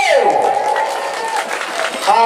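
Concert audience applauding at a gambus fundraising performance for a mosque in Lombok, a steady wash of clapping and cheering mixed with voices and a sustained musical tone.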